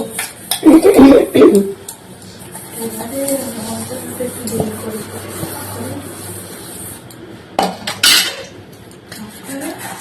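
Dishes, pots and pans being scrubbed and clattered at a home sink, with metallic clinks near the start and later, soft rubbing in between, close and fairly loud.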